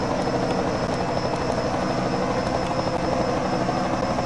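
Helicopter flying over a race track in a racing video game, a loud continuous rotor thrum and engine drone holding steady throughout without speech.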